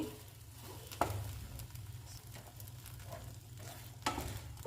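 A butter garlic egg cooking in a pan over a low flame, a soft continuous sizzle with a couple of brief scraping stirs, close but quiet, no talking.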